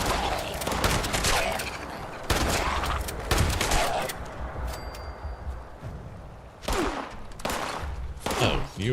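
Gunfire in the Fallout 76 video game on PC: dense volleys of loud game shots in repeated bursts, with brief pauses between barrages and a voice talking faintly beneath.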